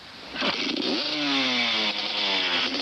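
A motorcycle engine revs hard and climbs in pitch, loud and close, holding a steady high drone for about two and a half seconds with a brief dip near the end.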